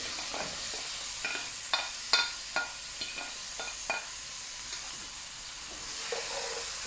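Garlic and onion sizzle gently in a pan over low heat, a soft steady frying hiss broken by a series of small crackles and stirring scrapes, close and fairly quiet with no talk.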